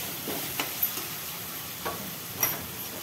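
Masala frying in a pan for a cauliflower and pea curry, a steady soft sizzle with a few faint clicks from stirring, close but quiet.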